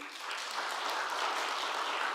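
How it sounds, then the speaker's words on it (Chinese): A church congregation claps steadily to welcome a guest, an even wash of many hands heard from a moderate distance, with no talk over it. "我们拍手欢迎她"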